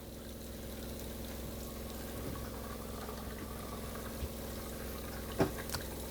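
Water flushing steadily from a Winnebago View RV sink faucet while de-winterizing, a continuous even hiss and trickle with a brief sharper splash or clink near the end, no talking.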